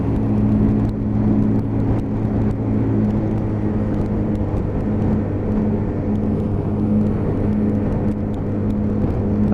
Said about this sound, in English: You can hear that engine just pick up if I open the throttle a bit